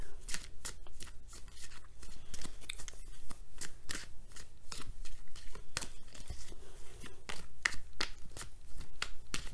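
Oracle cards are shuffled by hand, giving a steady stream of crisp riffling slaps and papery flutters close to the listener with no talking.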